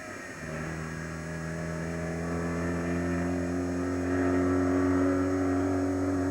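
A Vauxhall Vectra SRI with stiffened, lowered suspension drives along, its engine humming and building gradually in a steady, moderately loud drone.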